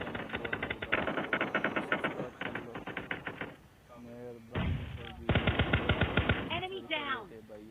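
Rapid gunfire in a battle royale video game, with repeated loud automatic bursts separated by short gaps and a brief lull in the middle, with someone talking over parts of the action.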